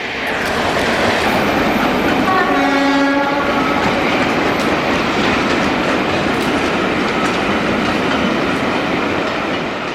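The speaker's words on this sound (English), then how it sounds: "This is the stock delivery move for the Western Pathfinder, creeping into Paddington" A diesel locomotive pulling a stock delivery move creeps into Paddington station, rumbling steadily and loudly at close range, its engine drone filling the air, with a short horn-like tone sounding early on.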